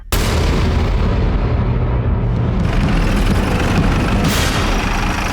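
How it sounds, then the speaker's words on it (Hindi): A massive, roaring explosion blast inside a house that hits suddenly and sustains as a loud, dense rumble for several seconds. "बड़ी जोर का धमाका हुआ था"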